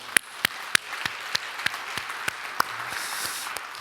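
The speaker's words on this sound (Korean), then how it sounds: "우리 하나님께 감사와 영광의 박수 올려드리겠습니다" Congregation at a Korean church service on Children's Sunday clapping in praise, with sharp, distinct claps at a steady pace over a soft wash of room noise, growing into a brief denser patter near the end.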